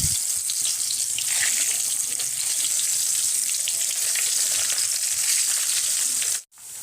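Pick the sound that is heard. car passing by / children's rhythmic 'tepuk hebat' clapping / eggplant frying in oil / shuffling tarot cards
eggplant frying in oil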